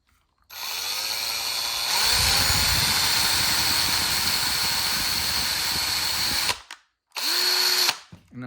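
A power drill drilling a hole while modifying headlights whines loudly and steadily for several seconds, its pitch dropping as it bites, then cuts out briefly before a short final burst.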